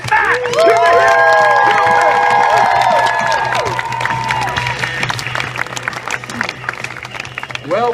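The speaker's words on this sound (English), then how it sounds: "How about another nice round of applause for the team of Cyrus and Matt" Audience applauds and cheers for a team on a TV show, loud at first with shouts and whoops, then settling into steady clapping.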